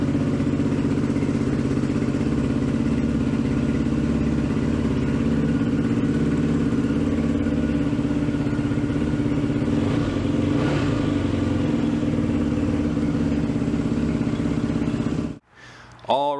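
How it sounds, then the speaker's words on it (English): A Yamaha WR400 motorcycle running steadily nearby for about fifteen seconds, a constant loud engine drone with some clatter, then it cuts out abruptly near the end. "I just took the bike for a spin"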